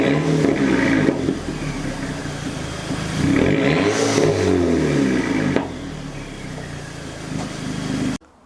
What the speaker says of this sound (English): I'm gonna give it a quick rev just for the culture.